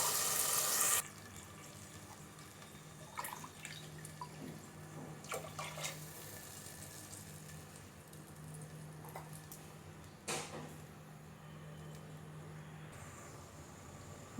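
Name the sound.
water poured into pan for tomato bath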